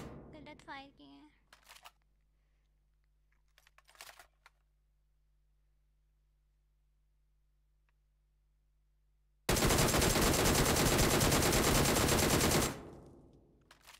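Someone talks briefly before a loud, sustained burst of automatic gunfire erupts in a video game, lasting about three seconds before cutting off abruptly.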